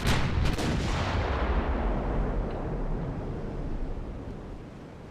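A battleship's main guns fire in the Ultimate Admiral Dreadnoughts naval video game, a loud, close salvo of booms followed by a long rumbling roar that slowly fades.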